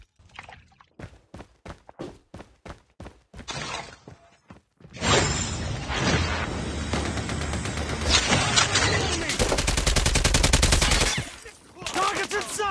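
Call of Duty Mobile gunfire: a string of sharp single shots for the first few seconds, then a dense, loud burst of rapid automatic fire and impacts, a heavy roaring volley, and a few final shots.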